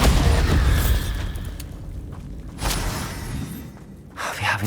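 Confringo and Bombarda spell blasts in Hogwarts Legacy: a series of loud booming explosions with shattering bursts, one opening the clip, another near the middle and a final crack at the end, each trailing into rumble.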